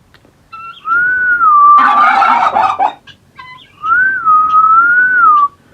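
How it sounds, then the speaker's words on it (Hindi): Farm turkeys answer a person's long tonal whistles with a short, harsh burst of calling between the whistles, heard close and loud. "जो हमारे टर्की है ना ये आवाज़ निकालते हैं"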